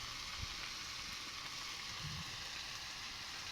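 Cumin and coriander paste with turmeric frying in a pan, a steady soft sizzle and crackle running evenly throughout at low volume, with no talking.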